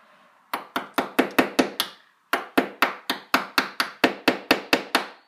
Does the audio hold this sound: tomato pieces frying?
no